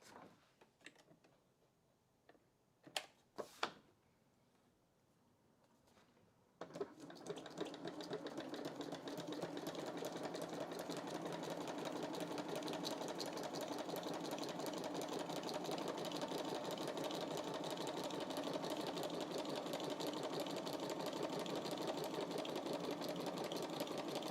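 A sewing machine used for scrapbooking runs steadily for the second half, a continuous whirring buzz, after a few soft taps and clicks during a quieter opening.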